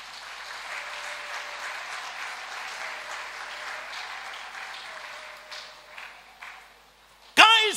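A church congregation applauding at an evangelical service, steady crowd clapping for several seconds that thins out toward the end before a sudden loud burst at the close.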